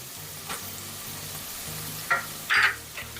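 Crushed fresh coconut and curry leaves frying in a pan for cabbage coconut rice, a steady low sizzle with a few brief scraping stirs rising over it, close and moderately quiet, no talking.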